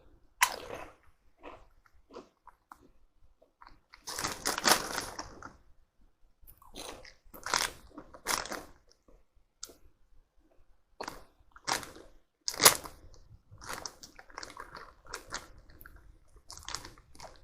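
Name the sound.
eating Morrisons Savers salt and vinegar crisps, crunching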